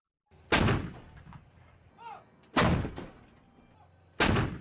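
A 155mm artillery gun firing three heavy, booming shots spaced a couple of seconds apart, each blast loud and close with a rumbling tail, and faint background noise between them.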